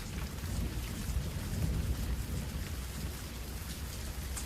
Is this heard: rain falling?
yes